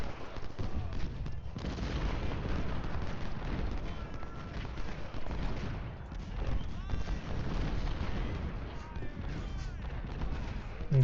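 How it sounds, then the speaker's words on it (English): Cannon fire booms in the Civil War video game Ultimate General Civil War during the Clash at Corinth battle, with repeated distant artillery blasts and scattered gunfire layered over a continuous rumbling battlefield din. "We've got our artillery, hopefully loaded and ready to fire."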